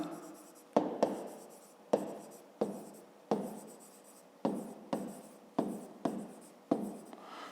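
A pen writes a geometry solution by hand on paper, giving about ten close, rhythmic scratching strokes with short pauses between them, in a quiet room.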